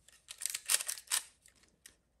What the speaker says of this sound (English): Now hear the sound of a leaf shutter